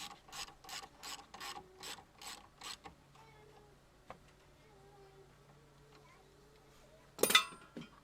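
A ratchet tightens a T50 Torx seatbelt bolt on a campervan seat, giving about seven rhythmic clicking bursts close up. After a quiet stretch of light handling noise, a short sharp clatter follows.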